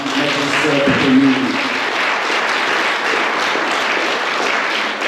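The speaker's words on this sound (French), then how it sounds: "je vous demande d'applaudir grandement notre sœur Prémile" A church congregation at a Sunday thanksgiving service gives a sister a full round of applause, a broad, loud and sustained roar of clapping with a brief low murmur early on.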